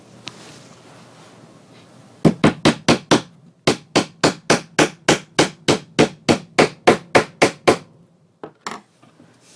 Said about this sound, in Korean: 그래서 요 못보다는 살짝 올라간 위치로 박아주고요